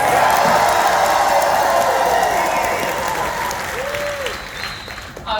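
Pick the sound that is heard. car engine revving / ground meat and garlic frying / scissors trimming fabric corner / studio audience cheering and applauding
studio audience cheering and applauding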